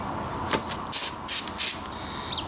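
Several short hissing spray bursts from an aerosol can of brake cleaner on rear brake parts of a Nissan Titan, outdoors, uneven in length, with quiet background between them and no talking.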